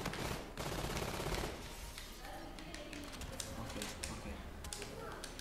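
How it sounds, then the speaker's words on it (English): FHR-40 variant rifle firing in Infinite Warfare, sustained rapid automatic bursts up close with game effects, loudest in the first second and a half before settling into steadier fire. "I'm gonna just fire a lot of these bullets because I can."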